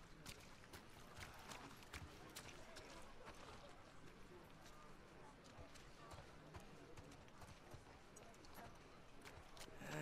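Horse hooves clip-clop in The Last of Us Part II, a faint, irregular series of sharp knocks on hard ground scattered through a quiet scene, with occasional soft voices in the background.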